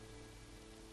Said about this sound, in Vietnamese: Trời đang mưa đó.